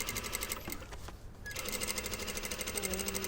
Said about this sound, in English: So just do a back tack and we're going to just stitch along with the edge of the foot.